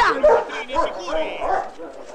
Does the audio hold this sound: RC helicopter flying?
no